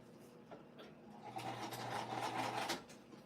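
A sewing machine top stitches an upcycled winter crescent bag, a short burst of rapid, even needle clatter building to a steady hum for about a second before stopping, fairly quiet and close.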